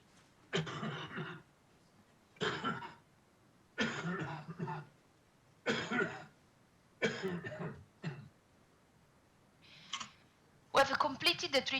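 A seated patient coughs during a PhysioAssist airway-clearance treatment, with about seven separate bursts of close, fairly loud coughing spaced a second or two apart, followed by a harsher cluster at the end.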